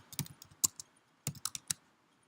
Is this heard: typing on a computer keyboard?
yes